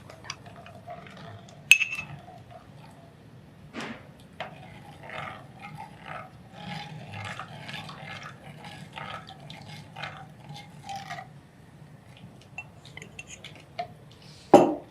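A spoon stirs a thickening dish in a clay pot, giving soft scraping and occasional sharp clinks against the pot at close range, with faint voices talking in the background.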